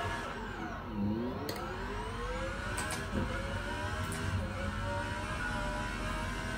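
Car engine in a sim racing game on a low-spec laptop, a steady synthetic whine that dips and climbs in pitch through gear changes, heard alone at moderate level.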